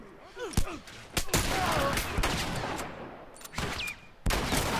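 Gunfire in the video game The Last of Us: several sharp shots and a rapid volley over a steady rumbling background, loud and close.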